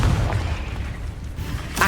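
Confringo blasting spell exploding in the Hogwarts Legacy video game, a loud, dense low-end boom that rumbles continuously through the short moment with a sharper burst at the very end.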